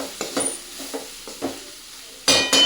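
A spoon stirs turmeric into a spice masala in a pan, giving a few soft scraping strokes with light sizzling, then two louder, brighter scrapes near the end, with no talking.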